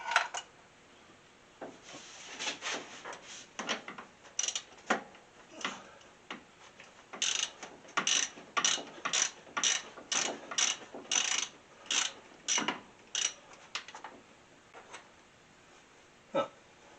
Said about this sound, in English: get a socket wrench with an extension in there, kind of looks like a ½ inch. Pop that off